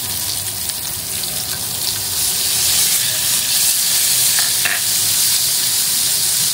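Peppers and black beans sizzle and fry steadily in a hot pan, a loud continuous crackle with a few utensil clinks near the end.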